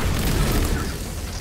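An explosion in the video game Destiny 2, heard as a loud, sustained low-heavy blast and rumble that fills the whole moment with no talk over it.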